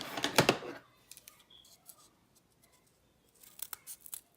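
Small thread scissors cutting during a craft box project, a sharp close snipping and rustling burst at the start, then faint scattered clicks and a second brief flurry of snips near the end, with no talking.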